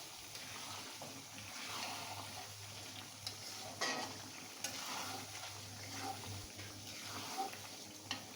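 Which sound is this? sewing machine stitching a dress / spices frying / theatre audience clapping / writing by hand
spices frying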